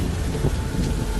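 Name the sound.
heavy rain and wind sound effect in animated horror story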